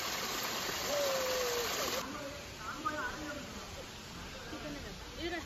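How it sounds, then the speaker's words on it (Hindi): A small mini waterfall flows in an outdoor spot, a steady broadband rush of falling water heard close, with people talking over it through much of the stretch. "देखो मिनी वाटरफॉल, ये मिनी वाटरफॉल।"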